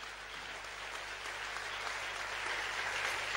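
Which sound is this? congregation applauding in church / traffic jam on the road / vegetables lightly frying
congregation applauding in church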